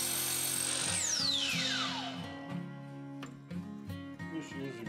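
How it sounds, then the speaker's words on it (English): A power saw runs at high, steady speed, then its pitch drops as it bites into wood, cutting blades for a whirligig to 8 inches; the cut continues as a loud, close, rough grinding buzz with uneven chatter. "So here I'm cutting my blades at 8 inches."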